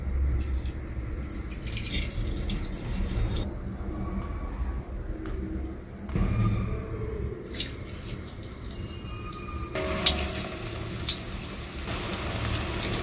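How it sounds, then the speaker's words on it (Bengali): Sliced eggplant fritters (beguni) fry in hot white oil in a wok, giving a continuous close sizzle with bubbling crackle and occasional utensil clinks. "এবার আমি স্লাইস করে রাখা বেগুনের টুকরোগুলো দিয়ে বেগুনি ভেজে নেব।"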